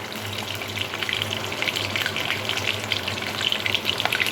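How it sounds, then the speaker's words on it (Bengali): Whole garam masala frying in the oil left from frying pointed gourd, a steady close sizzle and crackle throughout with small pops, no voices. "ভেজে রাখা এই পটলের তেলের মধ্যে দিয়ে দেব গোটা গরম মশলা"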